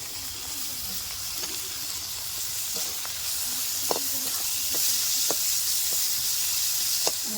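Tomato and ginger garlic paste frying in a pan for crab gravy, a steady soft sizzle with occasional light clinks of a stirring spoon, fairly close and without talking.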